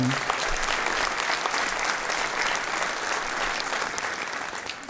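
Audience applause at a municipal New Year's greetings ceremony, sustained, even clapping from a large hall crowd lasting several seconds and fading slightly at the end.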